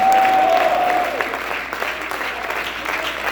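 A church congregation claps during a sermon, a dense run of hand claps with a brief high tone near the start and faint voices mixed in.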